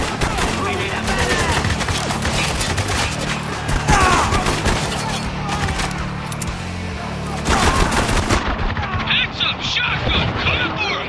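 Heavy automatic gunfire and bursts of shooting rage in the war shooter Spec Ops: The Line, dense and continuous with loud blasts, while soldiers shout callouts over the combat.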